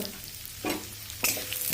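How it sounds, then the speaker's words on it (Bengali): Lentils frying in hot white oil in a wok hiss steadily and close, with two brief bursts of scraping stirring, and no voices. "দেখুন ডালটা ভাজা হয়ে গেছে"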